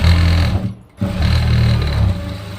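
Sewing machine stitching the folded hem of a plain raglan blouse, a steady close mechanical whir that drops out for a moment before running on again alone.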